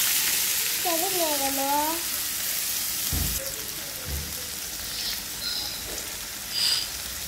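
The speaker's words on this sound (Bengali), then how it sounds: "পেঁয়াজটা ভাজা হয়ে গেলে সিদ্ধ করা ভাজিগুলো দিয়ে দিব" Boiled cauliflower and onion fry in hot oil with a steady close sizzle and occasional stirring clatter, while a voice briefly rises over it early on.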